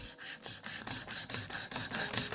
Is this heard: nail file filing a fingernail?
yes